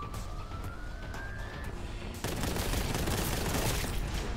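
A Space Marine's shotgun fires in a Warhammer 40,000 shooter, one sharp blast cutting in partway through and leaving a loud, noisy wash of action sound after a stretch of steady ambient game noise with a rising tone.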